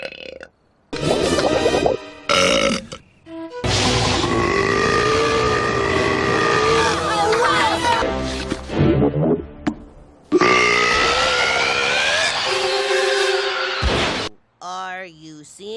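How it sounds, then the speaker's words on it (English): Female animated characters let out several long, loud burps in succession, drawn-out and gurgling, separated by brief gaps, with short bits of cartoon voices in between. "That was my celebration burp."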